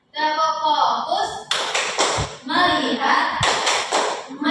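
A classroom focus-clap chant: a voice calls out rhythmic words while sharp claps and taps land in short bursts between the chanted phrases, close and clear.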